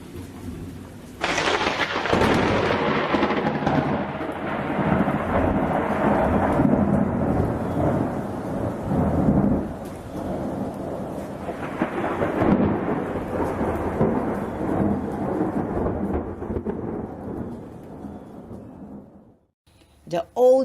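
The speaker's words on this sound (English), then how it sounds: "the storm got worse and worse. Suddenly a great thunder crash" A storm effect for a children's story: a sudden loud thunder crash rolls into steady heavy rain, with a second rumbling thunder swell midway before the sound fades out near the end.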